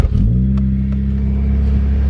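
A Honda K20 engine fitted into a salvage Honda Civic cranks briefly and fires, settling into a loud, steady, close-up idle with a deep droning rumble.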